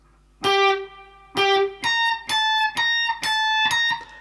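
Electric guitar picking the third bar of a riff, two lower notes followed by quick alternating higher notes, about eight clear plucked notes in a steady rhythm, close and alone.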